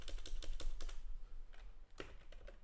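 Fast close keystrokes on a computer keyboard as code is typed, quick irregular bursts of clicks with a brief pause, no talking.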